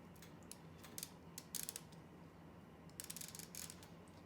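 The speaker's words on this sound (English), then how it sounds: "we can very quickly pull back our catapult arm" A LEGO catapult arm is cranked back by a small winch, giving quiet bursts of rapid plastic ratchet clicking in short runs with brief pauses between them, close up.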